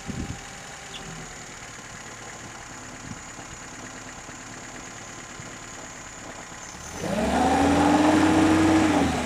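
A Lada Niva 21213 engine, which jerks at light throttle, idles with a steady low hum, then its revs rise audibly near the end into a louder, rising drone.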